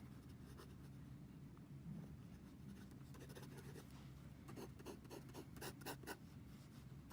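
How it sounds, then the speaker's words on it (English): A Visconti Florentine Hills fountain pen, a very wet writer, scratches and rubs across paper in quick, faint strokes, with a denser burst of short scribbles toward the end. "I like just writing nonsense with it"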